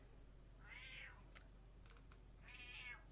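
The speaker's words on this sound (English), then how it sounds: "Say hi to my cat." A pet cat meows twice, two drawn-out mid-pitched calls separated by a brief pause with a few faint clicks between them, close by against a quiet indoor background with no talking.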